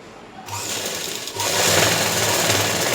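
An electric sewing machine stitches joined pant fabric with a close, steady mechanical whir that picks up speed and grows louder partway through, with no voices.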